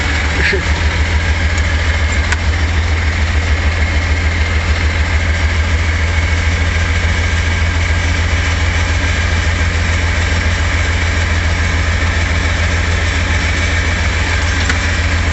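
An engine idling after a gummed-up injector pump was fixed, giving a loud, steady, low, rumbling drone that stays unchanged throughout, heard close by.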